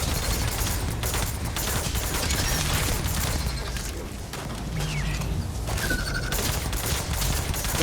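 Automatic gunfire in the sci-fi shooter Starfield: Shattered Space, a steady loud barrage of rapid shots running through the whole stretch with brief pauses and clatter, no voices over it.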